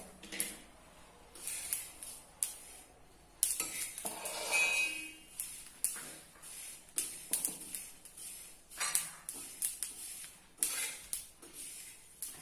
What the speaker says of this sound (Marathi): त्यानंतर आपण तीळ भाजून घेऊयात। साधारणपणे एक कप तीळ आहे।